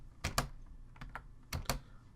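Keys clatter on a computer keyboard while an expression is entered in After Effects, a few quick close clicks in two short clusters with a pause between, quiet and alone.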